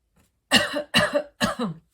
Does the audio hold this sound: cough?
yes